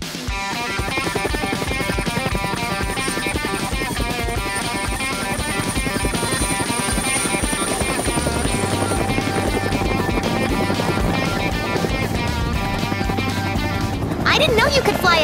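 Helicopter flying in a Minecraft game, a steady loud rotor drone with a constant high whine running throughout, voices talking over it.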